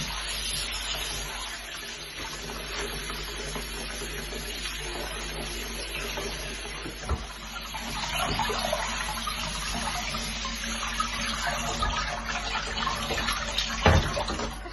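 Water runs steadily from a kitchen tap over spinach leaves being rinsed for a plum and spinach stew, a continuous hiss with faint splashing and a few soft knocks.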